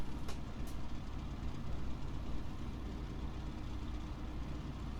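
F4U Corsair piston aircraft engine warming up: a steady, low rumbling drone that stays even and continuous, with faint clicks near the start.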